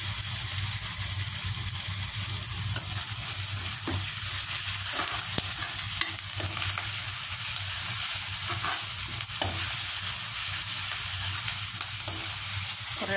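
Masala with curry leaves sautéing in a pan for a raw banana fry, a loud, even sizzle that runs throughout, broken by occasional scraping stirs of a spatula, heard close with no talk.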